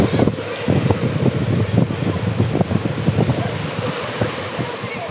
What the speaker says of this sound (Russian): Но вот такой ветрюган и штормовое море.